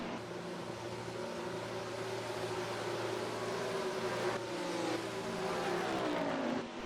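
A NASCAR race car engine hums steadily on board at Darlington while rolling down pit road for a pit stop in NASCAR Racing 2003, a sustained drone with a slowly shifting pitch and no talk.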